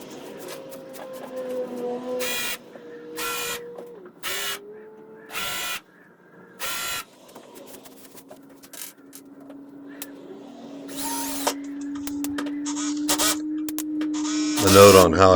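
A power drill drives screws to fasten an MDF wasteboard down onto a CNC table, heard as several short whirring bursts spaced a few seconds apart, with a longer run and a final louder burst near the end.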